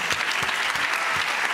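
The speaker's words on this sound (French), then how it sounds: "15 ans de moins, on peut applaudir Françoise." Audience at a health conference in La Rochelle claps briefly, a dense burst of hand claps from a nearby crowd.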